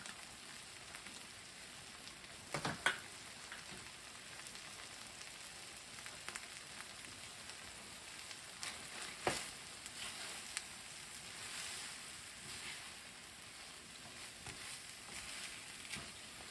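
Eggs fry in a pan while being mixed, making a steady soft sizzle throughout with occasional faint scrapes and taps of a utensil.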